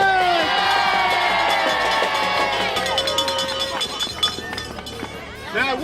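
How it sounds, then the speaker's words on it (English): A crowd at an outdoor Christmas lights switch-on event in Wednesbury cheers and shouts loudly, with children's excited squeals and whoops rising and falling over the noise. "A big round of applause for Baggy Bird!"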